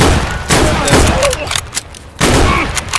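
Rapid bursts of gunfire from the video game Escape from Tarkov crackle loudly and close, several volleys with short gaps between them.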